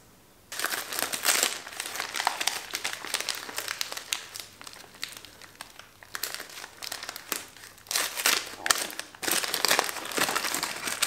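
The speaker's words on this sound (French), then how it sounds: "Il y a plein de papier bulle." Busy crinkling and crackling of bubble wrap, handled in irregular bursts for several seconds, close and fairly loud, with short pauses between rustles.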